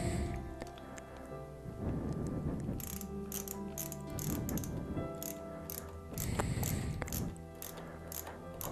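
A screwdriver turns screws to fit a phone mount on a Triumph Tiger 800 motorcycle, giving a close, continuous run of small ratcheting clicks and metallic ticks in bursts.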